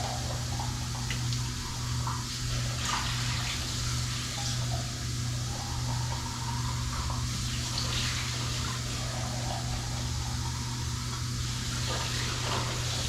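Steady running water from a kitchen tap while food is rinsed for chili, a continuous even rush with a constant low hum beneath it and no talking.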